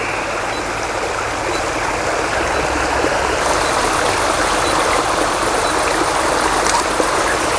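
A waterfall rushes steadily as a dense, continuous roar of falling water, close and loud throughout with no voices over it.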